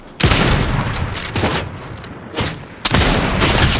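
Loud bursts of gunfire in the Fortnite video game, several sharp volleys and booming blasts with short gaps between them, close and dominant with no talk.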